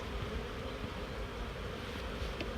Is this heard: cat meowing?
no